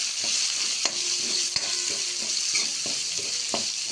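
Mixed vegetables such as peas and capsicum sizzle in a hot pan for veg pulao, a steady loud frying hiss broken by sharp scrapes and clacks of a stirring spoon.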